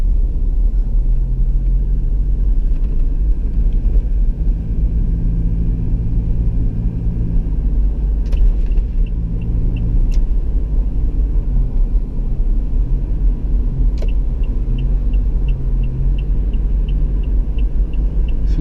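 A 2018 Toyota Fortuner engine hums low and steady from inside the cabin while driving, with road rumble throughout and a few faint ticking clicks over the drone.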